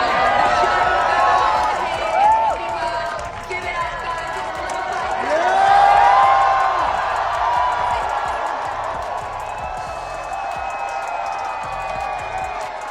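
A tennis crowd at Indian Wells cheers after a debut win, with a sustained roar of voices, whoops and whistles swelling and fading, loud and spread out around the listener.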